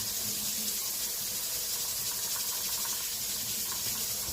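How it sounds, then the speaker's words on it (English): Tap water runs steadily into a kitchen sink while a greasy colander is washed, a constant close hiss with no talk. "I'm going to wash the colander first."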